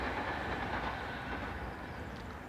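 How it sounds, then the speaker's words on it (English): Train cars rumbling steadily across a railway bridge above a river pool on the Avon, a continuous close clattering roar that holds level throughout with no voices. "the noise of those trains going across the railway pool"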